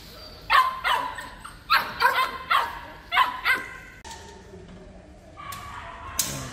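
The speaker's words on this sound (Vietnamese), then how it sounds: "Đây là những cái chú chó mông cộc mà hôm nay bọn mình sẽ phải đi cùng đoàn" H'Mông Cộc dogs bark from their cages in sharp bursts, several loud barks in quick clusters followed by softer whimpers and a final yip, fairly close.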